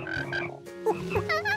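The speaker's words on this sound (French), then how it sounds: "On peut écouter les grenouilles qui coassent" Several frogs croak in rhythmic, throaty bursts, fairly close and moderately loud, with brief gaps between calls.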